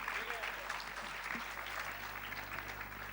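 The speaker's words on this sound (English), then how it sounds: "Please give him a huge round of applause." An audience at a film trailer launch event applauds a singer on stage, with continuous moderate clapping from a crowd and a low hum from the venue's sound system.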